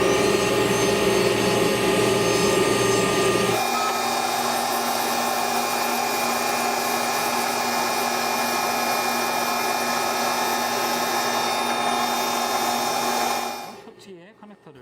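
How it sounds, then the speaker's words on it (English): A dental burr grinds steadily on an unsintered zirconia crown, a loud continuous high-pitched whine that drops slightly in pitch after the first few seconds, holds for about ten seconds more, then cuts off near the end. "In order to trim it gently, use narrow and smooth denture burr instead of fissure burr."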